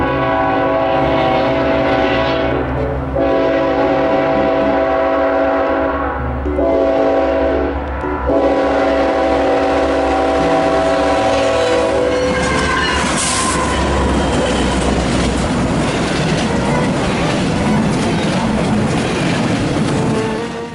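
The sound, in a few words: freight train passing with horn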